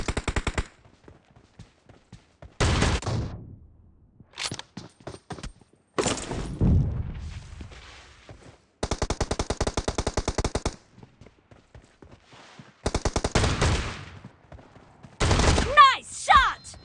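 Shotgun fire in a video game team match, with several loud clusters of rapid repeated blasts separated by short pauses and lighter clicks, plus a final burst with chirpy game effects.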